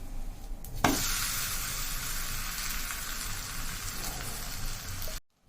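Wheat roti with onion and green chili fries on a hot pan, a close, steady sizzle that jumps louder as the food is moved, then holds a bright hiss before cutting off abruptly.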